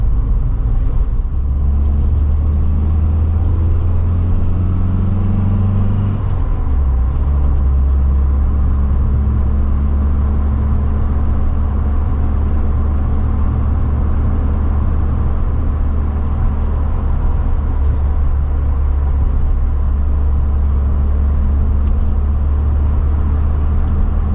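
Steady low engine drone and rumble from a classic car's sporty exhaust, constant throughout with a brief shift in pitch early on, no voices.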